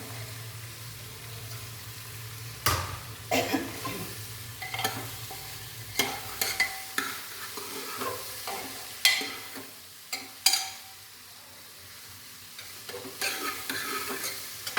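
Cluster beans (guar) frying with onions in a pan, sizzling steadily while a spoon stirs and scrapes in irregular bursts, close and fairly loud with no talking.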